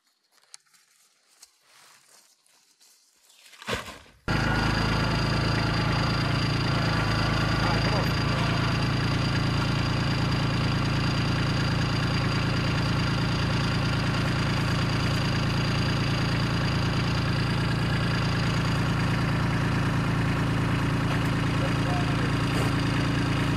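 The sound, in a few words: tractor engine idling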